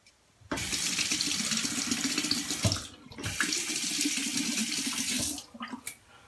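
Water runs steadily from a tap into a sink while a two-bladed Gillette Sensor Excel razor is rinsed. The flow is loud and close, breaks briefly midway, then resumes before tapering off with a few splashes.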